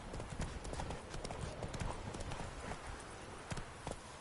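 Roach the horse trotting in The Witcher 3: Wild Hunt, a steady, close rhythm of clip-clopping hooves that runs the whole time over dense game ambience.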